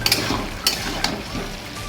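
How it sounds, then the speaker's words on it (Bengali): Meat and tomato stirred and mashed with a spatula in a pan, with scraping and stirring strokes plus a few sharp clinks over a steady background sizzle. "এবার খুন্তি দিয়ে এটাকে একদম ঘেটে দেবো।"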